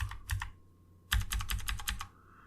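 Typing on a computer keyboard nearby, two quick bursts of crisp key clicks separated by a short pause, the second a rapid run of several strokes, fairly quiet with no talk.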